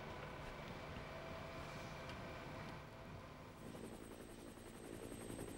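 Steady, distant helicopter rotor drone hovering above a bike race in central Spain, with wind noise throughout and no speech.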